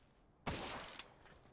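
Rifle gunshots in the video game PalWorld: a sharp loud burst of rapid fire followed by a couple of quicker, fainter cracks, with no talking.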